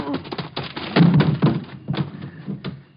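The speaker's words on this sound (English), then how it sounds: "You knocked him cold. Nice tackle, Rick." Radio drama struggle as a man is tackled to the ground: several dull thumps and scuffling thuds in quick succession, close and fairly loud, with voices mixed in.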